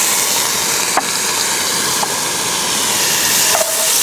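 Garlic sautéing in a Dutch oven while camp cooking, a loud steady hiss of frying with a few faint clicks of a utensil against the pot.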